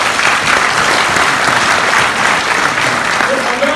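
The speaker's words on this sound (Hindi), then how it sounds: "जोरदार तालियां" A seminar audience in a Faridabad hotel gives loud, sustained applause, a dense wash of clapping at even volume from start to finish.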